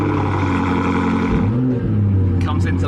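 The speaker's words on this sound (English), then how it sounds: "Comes into life. Aggressive, angry sound, which is just what we like with the exhaust system on this car." A BMW M5 safety car fires up with an aggressive, angry exhaust note, a loud close engine drone that swells as it comes to life, with a voice speaking over part of it.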